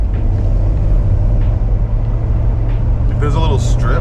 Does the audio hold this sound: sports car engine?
yes